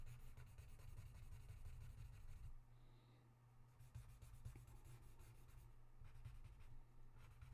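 Graphite stick scratches and rubs across paper while shading a drawing, a soft continuous scraping with short pauses between strokes, quiet and close over a low hum.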